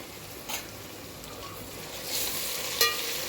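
Fenugreek leaves fry with tomato and garam masala, giving a soft continuous sizzle with a few light stirring scrapes and clinks.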